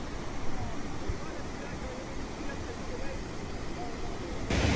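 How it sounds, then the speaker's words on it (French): Rushing water at the Cascade du Rouget, a waterfall reached by bike, gives a steady, dense broadband roar throughout, with wind-like noise mixed in. "La cascade du Rouget, c'est incroyable, c'est trop beau"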